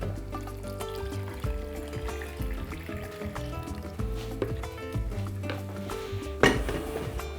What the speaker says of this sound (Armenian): Ավելացնում ենք արգանակը